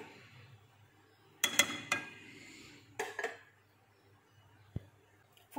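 Food colour stirred into cheese slice batter in a bowl brings a few sharp clinks and scrapes of a spoon against the dish in short bursts, with quiet gaps between.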